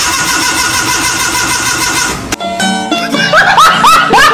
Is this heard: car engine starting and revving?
yes